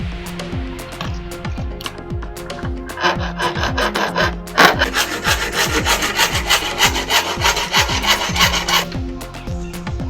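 A hand saw cuts through a wooden piece for a homemade fishing rod holder with a steady series of rasping back-and-forth strokes, growing louder and brighter midway, close up.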